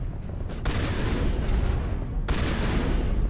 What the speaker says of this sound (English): Oh, it's a slug shotgun!